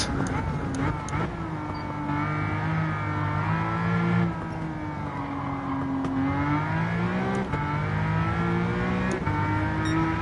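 A car engine in Gran Turismo 7, played in VR on a stock Porsche 911 of the 991 generation, revs steadily and loudly, its pitch rising and falling through gear changes, with someone talking over it.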